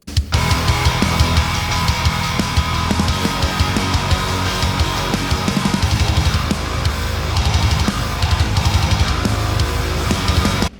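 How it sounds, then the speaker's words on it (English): A fat, dense Vital synth preset plays MIDI inside a Reaper metal songwriting template: loud, sustained and full-range, with a steady driving rhythmic pulse for about eleven seconds, no voice present. "You can drop your MIDI into the Synths channels and use"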